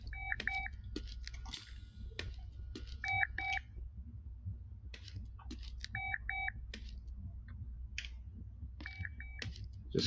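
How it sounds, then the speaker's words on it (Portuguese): Repeated pairs of short, high electronic tones recur at regular intervals like a distant whistle or phone signal inside the horror video game Remorse: The List, over faint clicks and a low ambient hum, with no speech. "Escutando um trem apitando"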